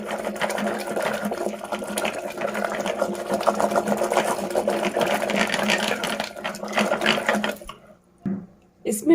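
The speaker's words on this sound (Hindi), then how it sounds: "दोबारा हम इसको इस तरीके से अच्छे से ब्लेंड करेंगे" A kitchen blender whirs loudly and steadily as it purées a Sindhi palak mixture of spinach, lentils, coriander powder, turmeric and salt, then stutters and cuts out in short bursts near the end.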